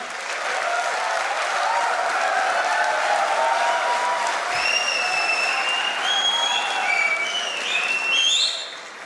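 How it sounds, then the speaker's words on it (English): Sustained applause from an audience at an alumni ring presentation ceremony at an engineering institute, a dense even wash of clapping with a few whistles near the end. "let us give ourselves a round of applause for being here tonight"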